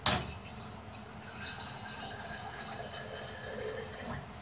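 Tap water runs into a saucepan in a home kitchen with a steady, soft hiss and splash after a brief initial burst, fairly faint and with no voices.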